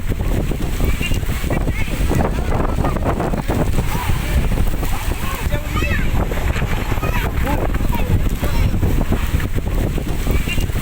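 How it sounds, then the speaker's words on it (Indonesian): Strong wind sweeping across a beach, a loud, constant roar of buffeting gusts on the microphone, with excited voices talking faintly underneath. "jadi sekarang anginnya lagi kencang"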